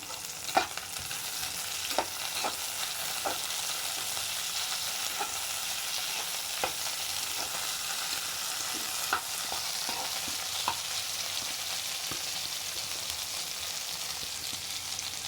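Onions sautéing in a pan after green chillies give a low, even frying hiss, dotted with light spoon taps and scrapes every second or two, fairly quiet and with no talk.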